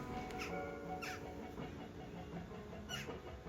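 Birds calling outdoors on a pleasant day in Amsterdam, with short chirps and squawks coming and going over steady outdoor background noise; no one speaks.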